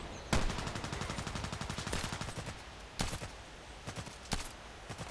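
Rapid bursts of automatic gunfire from the online shooter Contract Wars, loud and close, with dense rattling volleys in the first seconds and then separate sharp shots spaced out over the rest.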